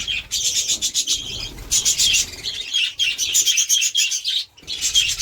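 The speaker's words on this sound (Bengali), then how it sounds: "দেখো আর কিছু বাচ্চা পাখি আছে এই সাইডে, দেখতেই পাচ্ছ সব চিল্লাচ্ছে খাওয়ার জন্য" A group of baby birds chirps and calls for food in a dense, high-pitched chorus of rapid tweets, loud and close, with short pauses between bursts and a soft flutter underneath.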